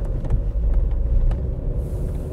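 A Ravon R4 car with a 1.6-litre, 102-horsepower engine pulls away, a low steady engine rumble heard from inside the cabin with a few faint clicks and no talk.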